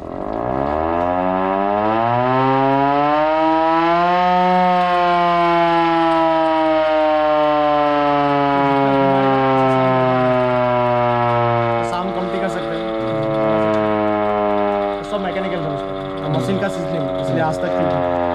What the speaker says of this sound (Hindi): ये सेकंड वर्ल्ड वॉर का सायरन था।